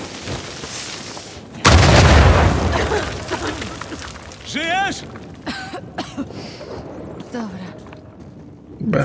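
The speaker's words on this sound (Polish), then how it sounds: "Wiemy, co wywołało tamtą eksplozję." An explosion in the video game Uncharted 4 hits as one loud booming blast that slowly decays into rumbling debris, followed by the game character's voice and scattered quieter effects.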